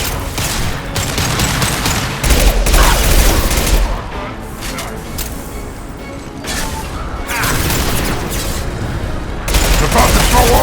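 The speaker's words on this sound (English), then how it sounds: "Firing an impact shot!" Impact shot fired in the Mass Effect Legendary Edition video game, heavy booming blasts amid gunfire bursts, loud and close, recurring several times with talking over the action.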